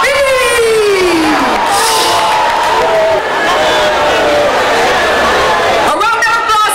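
A crowd cheers, whoops and shouts for the winner of a Raga Soca competition at a lively night event, the noise dense and loud throughout with a swell of shouting near the end.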